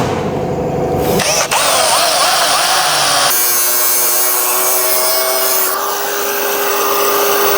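A power tool whines steadily in a shop while holes are made in a metal piece during a wrecked Crown Victoria rebuild, its pitch shifting a couple of times as the load changes, loud and continuous throughout.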